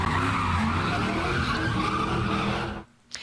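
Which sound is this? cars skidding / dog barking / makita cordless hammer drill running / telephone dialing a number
cars skidding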